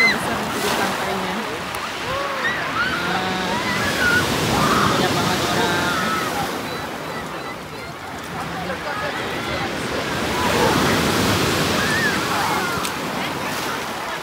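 Big ocean waves break on the beach at Olginka, Russia, in a loud, continuous surging roar that swells and fades in long slow cycles, with voices faintly in the background.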